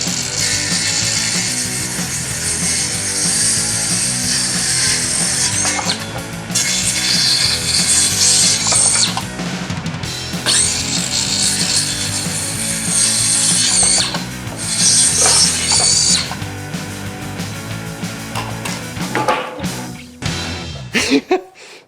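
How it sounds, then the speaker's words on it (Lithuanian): Hand tools saw and rasp wood for a table, using old-style tools. Close, loud, rhythmic scraping strokes run in bursts with short pauses between them, and no talking over them. "Aš tiesiog supjauju viską iki minutės."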